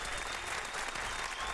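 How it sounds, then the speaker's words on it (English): An audience breaks into a dense, even round of applause, steady and moderately loud, with no gaps for its short length. "give that a round of applause"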